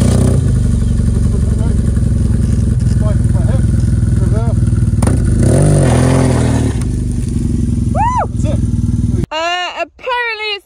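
A Honda Africa Twin CRF1100L motorcycle on muddy UK green lanes revs and rumbles loudly nearby, the engine note surging in short bursts with clattering, then dropping away as voices speak.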